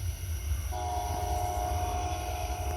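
A mile-long freight train passes a milepost with a heavy, continuous rumble close by, and partway through a sustained horn chord sounds out and holds over the roar.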